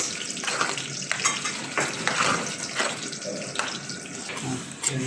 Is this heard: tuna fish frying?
yes